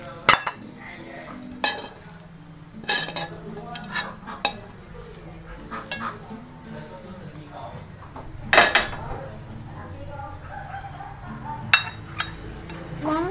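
Stir-fried brown rice noodles with miso sauce are plated, with utensils scraping and clinking against a pan and dish in irregular, close, fairly loud knocks over a quiet kitchen background, heard alone without talking.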